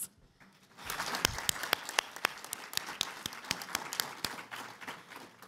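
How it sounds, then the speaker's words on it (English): Scattered claps grow into a round of applause from a conference audience, with sharp individual hand claps standing out over a moderate, fairly distant wash of clapping. "Let's give them all another huge round of applause."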